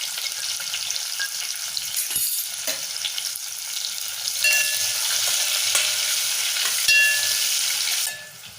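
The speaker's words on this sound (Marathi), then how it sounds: "कांदा चांगला लालसर होईपर्यंत परतून घ्यायचा." Chopped onion with asafoetida sautéing in hot oil, a steady bright sizzle with occasional scrapes and stirring knocks of a spatula, close and continuous, rising slightly louder midway before easing off at the end.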